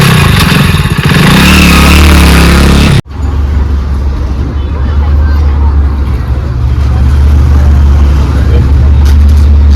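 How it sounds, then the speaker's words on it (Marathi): A vehicle engine idles with a loud, steady low rumble, abruptly cut in on after a burst of nearby noise, then running continuously under a faint background bustle. "आमची गाडी चालू आहे ना, झाली का?"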